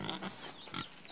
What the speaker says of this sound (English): Oh my gosh, look at these pigs.